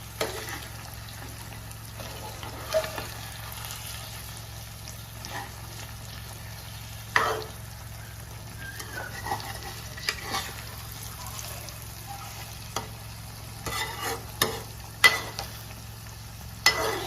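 Eggs fry in a pan for an egg, garlic and chili dish, with a steady low sizzle under scattered scraping and tapping of a utensil stirring and turning them.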